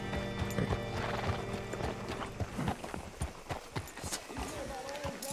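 In the video game Red Dead Redemption 2, hooves clop on hard ground and a horse whinnies, with voices speaking over and between the sounds.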